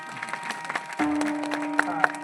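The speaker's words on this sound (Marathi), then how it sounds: "आपल्याला त्याला जरा का टाळ्या वाजवी द्या" Scattered audience clapping at a bharud folk performance, a few loose claps rising over a sustained electronic tone from the sound system, moderately loud and uneven.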